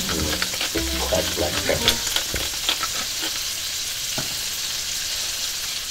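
Butter, kosher salt and cracked black pepper sizzle loudly and steadily in a hot pan, with a few stirring scrapes near the start and a person talking over the frying.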